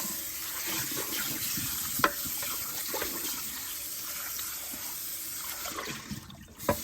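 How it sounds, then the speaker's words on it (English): Hot water runs from a tap into a sink while dishes are being washed. It makes a steady, close hiss of flowing water with a few small clinks, and the flow cuts off near the end. "Hot water."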